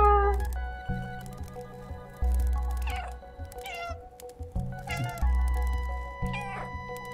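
A cat meows repeatedly in the video game Stray, several distinct calls with pauses between them, close and clear over low game background sounds.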